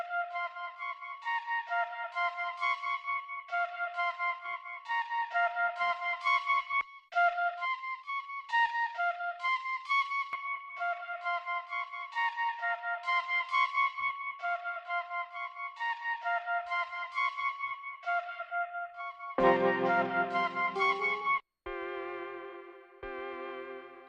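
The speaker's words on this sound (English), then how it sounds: "I've got it on the eighth notes doing a ping pong." Sampled melodic phrase run through an Arturia Bucket Brigade delay set to an eighth-note ping-pong echo, with repeating plucked notes trailing off in rhythmic repeats and a denser chord near the end.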